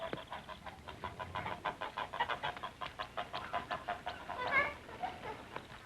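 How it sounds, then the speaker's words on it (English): A farmyard chicken in a 1938 film clucks in a quick, even series of pulses that builds toward a louder squawk near the end, fairly close and clear. "I'll introduce myself to the chicken."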